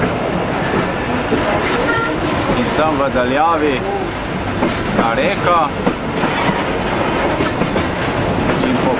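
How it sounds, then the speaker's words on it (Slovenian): A train climbs quickly high into the hills in Australia, its steady rumble and clickety-clack of wagons running loud and continuous throughout, with a voice talking over it and brief squeals from the wheels. "Kar hitro se uspenja ta vlak."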